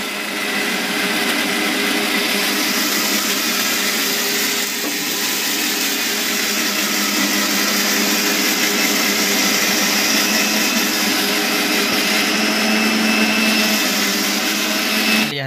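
Electric kitchen grinder whirring continuously and loudly while grinding spices into a homemade masala, a steady dense motor roar with no pauses and no voices.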